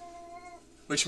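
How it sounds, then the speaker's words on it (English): A foster cat yowls loudly in a short burst at the end, after a stretch of quieter background tone with some faint voice-like hum. "The cat that we are fostering currently does a lot of yowling"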